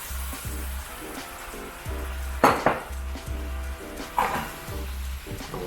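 Tofu going into sauce in a pan for mapo tofu, with a soft sizzle and a few sharp clinks of a utensil against the pan over a faint rhythmic low hum.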